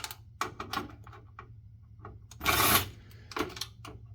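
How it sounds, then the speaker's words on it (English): Screws are taken out of a Gateway DX4870 desktop PC and dropped, giving faint, close metallic clicks and rattles with a brief louder clatter in the middle. "I'm just going to haphazardly remove the screws and let them fall where they be"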